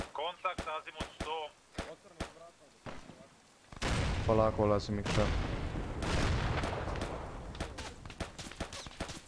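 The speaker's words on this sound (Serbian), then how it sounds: "Unutra se čuje pucnjava." Heavy gunfire rattles inside a factory during an Arma 3 firefight, with dense bursts and booming shots running continuously after a few sharp early cracks, while squad members talk over the radio.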